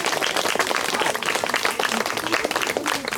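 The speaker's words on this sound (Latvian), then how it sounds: "Es domāju, ka visi mani mazie draugi šajā visā ir pelnījuši īpaši liels jūsu aplausus, vai ne?" Audience applause fills the room, a dense, steady patter of many hands clapping close by for several seconds at a small community anniversary event.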